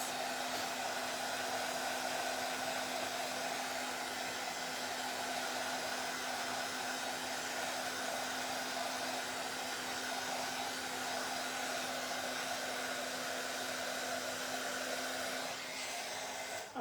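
A hair dryer blows on a handmade primitive craft turkey, giving a steady, close, continuous whir with a constant hum that runs unbroken, with no talking, before easing slightly at the very end.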